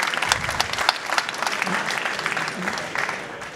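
Audience applause at the close of a talk at a Montpellier water-management conference, a steady patter of many hands clapping in a hall, fairly even throughout with a few louder claps.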